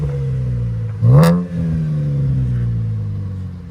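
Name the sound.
Chevy Camaro 3.6L V6 engine revving with HKS exhaust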